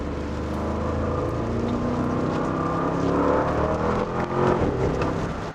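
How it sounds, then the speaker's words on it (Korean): A Bentley Bentayga V8 in sport mode pulls hard along a winding road. Its engine roars continuously and grows louder as it accelerates, while road noise stays steady beneath it and no one speaks. "컨티넨탈 GT에서 느꼈던 그 화끈한 엔진 사운드가 여기서도 그대로 느껴진다"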